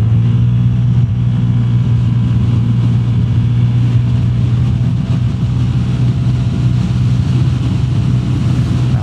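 A Lambretta G350 scooter accelerates on a test ride with a loud, close, steady engine drone that holds unbroken throughout.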